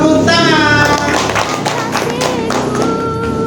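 Students in a classroom clap in quick, even rhythmic bursts close by, a sharp patter of hands running steadily under an adult voice calling out over it.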